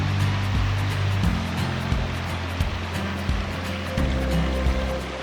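A waterfall in the Mindo cloud forest of Ecuador pours into a small pool, its steady broadband rush filling the scene at close range with a low rumble beneath.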